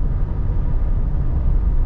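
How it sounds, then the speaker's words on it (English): A 1984 Buick Riviera cruises along the road, heard from inside as a steady low rumble of engine and tire noise with no talking. "You guys can see this car is just floating right along."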